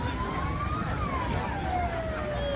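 A wailing siren tone from a toy imitating an emergency vehicle sweeps slowly up and down, steady and moderately loud, with a faint background hum throughout, at bed races in Venice, Florida.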